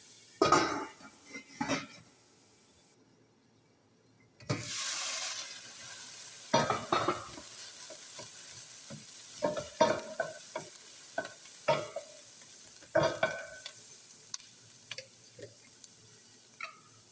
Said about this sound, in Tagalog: Lutuin lang po natin ang konti ang sibuyas.